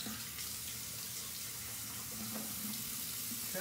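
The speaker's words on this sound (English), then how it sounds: "what I'll do is a little rinse." Tap water runs steadily over a Ben Franklin straight razor by Stirling as it is rinsed between shaving passes, a close, even splashing rush lasting a few seconds with no talk.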